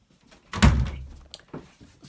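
A door shuts indoors right after a cat is put out during a tarot reading, making one solid thud followed by a smaller knock and faint rattle, close and fairly loud, with no talking.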